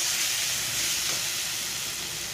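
Spice masala for an egg curry sizzles and fries in a pan, a continuous bright crackle heard up close with faint stirring and no talk.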